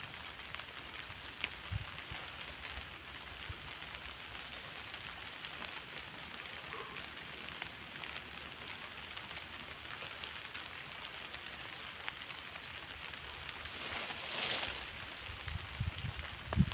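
Steady rain that has been falling since morning patters continuously on surfaces, a soft, even hiss with occasional nearby drips and no talking.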